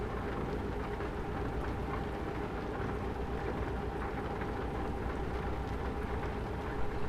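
Steady rain in Euro Truck Simulator washes over a constant low rumble of the truck rolling along, an even, unbroken hiss throughout with no talk.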